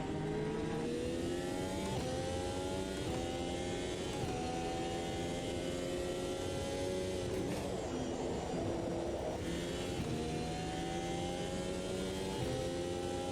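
Simulated F1 2022 racing car engine in the sim game Automobilista 2, revving high and steadily through repeated upshifts, loud and continuous with rising whine between gear changes, no talking.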